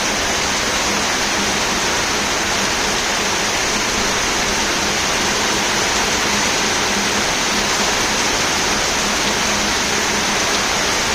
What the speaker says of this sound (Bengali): চারিদিকে বৃষ্টি আর বৃষ্টি।